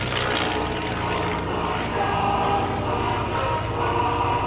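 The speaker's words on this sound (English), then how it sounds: "Sean Carroll, a beautiful Yak-9 aircraft." Yak-9 warbird performing aerobatics at a World War II airshow weekend, its piston engine and propeller roaring loud and steady throughout, with a continuous low drone and no pauses.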